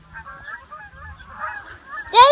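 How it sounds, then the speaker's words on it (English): Canada geese honking overhead in an open outdoor spot, a loud burst of harsh honks near the end after a quieter stretch of faint wind and distant sounds. "Is there some geese coming?"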